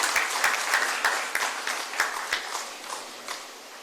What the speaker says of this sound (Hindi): तालियां जोरदार होनी चाहिए आपकी तरफ से।